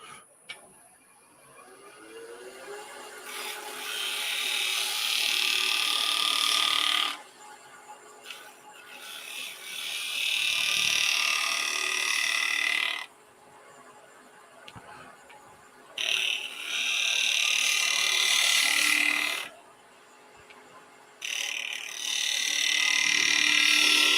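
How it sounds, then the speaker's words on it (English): A spindle gouge cuts a spinning piece of wood on a lathe, giving several sustained, close hissing passes separated by short pauses while the lathe keeps running. "So let's do that with this little spindle gouge."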